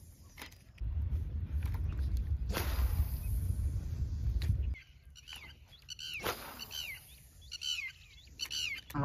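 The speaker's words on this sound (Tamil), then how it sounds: "இந்த குருவி வேற என்னை படாப்படுத்துது, இது ஒரு மாதிரி இந்த சவுண்டு இரிட்டேட் ஆகுது" Sparrows chirp near a fishing spot, short high tweets scattered through the second half alongside other bird calls, over a steady low rumble that drops away partway through.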